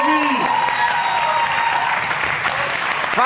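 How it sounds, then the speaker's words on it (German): Audience applause at a live music quiz show, a dense crowd clapping continuously with a voice briefly heard over it at the start and end. "Applaus für Tobi, meine Damen und Herren"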